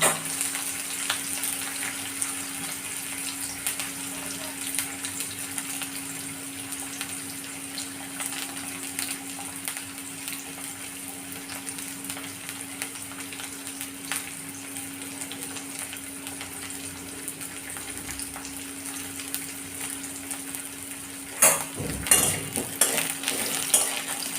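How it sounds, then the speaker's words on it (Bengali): Papaya sizzles and fries steadily in hot oil in a pan, a continuous crackling hiss throughout, with a few louder clattering stirs near the end. "পেঁপেটা একটু নেড়ে ছেড়ে নেব পেঁপেটাও ভেজে তুলে নিলাম"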